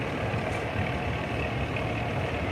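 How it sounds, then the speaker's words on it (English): International 650 diesel wheel tractor running in a steam show parade, a steady low diesel rumble and idle held throughout at moderate, constant loudness with no talk over it. "At the time, the 650 diesel was the largest wheel tractor International made"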